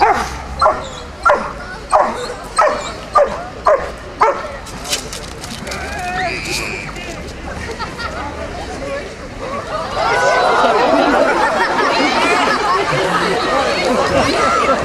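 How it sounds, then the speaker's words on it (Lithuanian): Dogs bark in a quick series of sharp, evenly spaced yelps near the start, then a crowd chatters and murmurs loudly through the rest, with the barking giving way to the noise of people at an outdoor event. "Palaikymo komanda Kupiškėnų šunys jungiasi."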